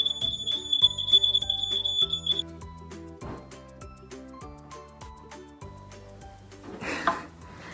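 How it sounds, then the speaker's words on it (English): A smoke alarm set off by a candle beeps in a rapid high-pitched string for about two seconds over music, then cuts out while the music carries on. "My candle just set off the smoke alarm."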